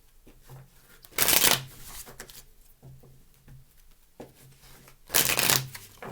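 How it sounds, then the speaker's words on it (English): Two quick riffle shuffles of a deck of cards, each a brief crisp flutter, with soft card handling and tapping in between. "Last shuffle, please."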